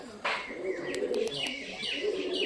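Pigeons cooing and chirping close by while a flock is released to fly, soft repeated calls with a few sharp chirps over steady background noise.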